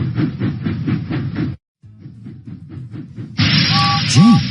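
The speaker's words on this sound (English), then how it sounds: "James puffed proudly into the steamworks." Steam engine chuffing in a Thomas the Tank Engine children's video game: rhythmic puffing bursts, a short pause, then fainter regular chuffs before a louder hiss of steam with a whistle-like sweep at the end.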